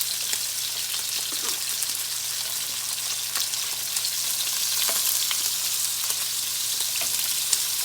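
Angus steak and butter fry together in a hot pan with a steady, close, crackling sizzle that persists without a break, flecked with small pops and spatters.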